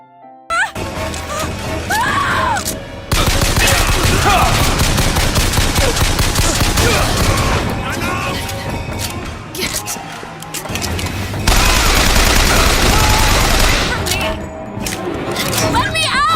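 Loud bursts of gunfire and crashing impacts erupt during a room-clearing fight in Bioshock Infinite, shots rattling in dense clusters with booms, while a narrator talks over much of it.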